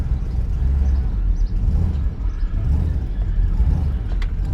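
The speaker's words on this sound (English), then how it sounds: "I'm pretty sure my tires are flat." Camaro rolling on a flat tire, a low, rough rumbling drone with uneven thumping throughout, close and steady.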